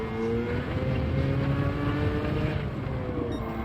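A car drifting in the video game Gran Turismo 7: a continuous, steady engine drone with sustained tonal whine, held loud and even throughout without pauses.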